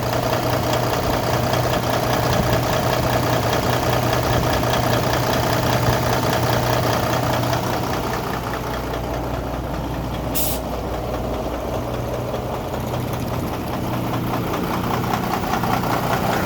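A car engine idling with its AC compressor and belt running, a steady loud rumbling drone with faint mechanical knocking and a brief hiss midway, no talk.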